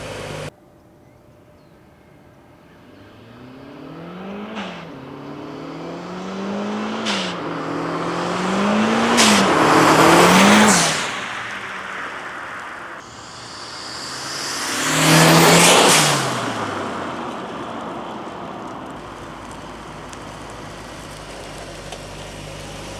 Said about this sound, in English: Enjoy the sound, enjoy the boost, enjoy the blow-off valve.